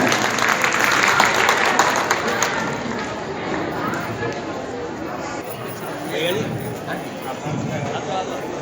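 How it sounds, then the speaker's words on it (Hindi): Audience applause at a children's day celebration held by a child education management committee in Masani, a dense, loud patter of clapping that holds steady, then eases slightly, with voices mixed in. "एक बार उनके लिए भी जोरदार तालियां"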